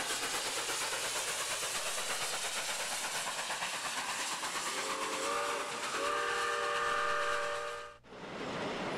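A U-3B steam locomotive running through Michigan countryside, its steady chuffing rumble joined by a long, loud, sustained whistle before a sudden cut to a brief quieter rush.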